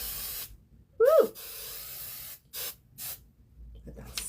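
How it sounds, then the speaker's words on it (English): Hairspray hisses onto hair in several short, close bursts with pauses between them, and a voice briefly exclaims near the start. "Let me just spray the hair"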